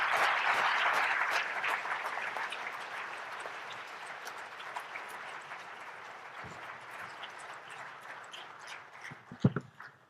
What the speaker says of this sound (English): Let's give a big round of applause for Deepak Chopra.